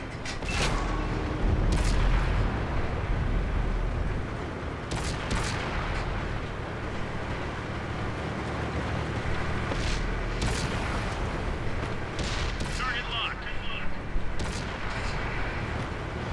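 Tank cannon fire in World of Tanks, several sharp booms spread through a dense stretch of rumbling battle noise, with a near shot early on and more blasts scattered across the rest.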